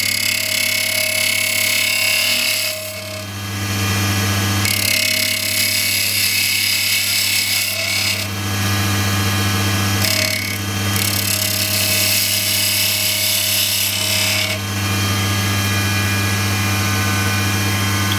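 A spindle-turned wooden spinning top on a lathe hums steadily while a tool cuts a bevel, with rasping bursts of cutting that come and go in waves over a constant motor drone.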